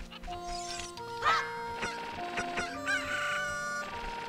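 A cucco chicken in Ocarina of Time crows and clucks repeatedly in Kakariko Village, clear and close over a bright looping game melody, with no talking.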